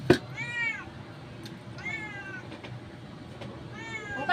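A cat meows three times, drawn-out and evenly spaced, over a faint background hum.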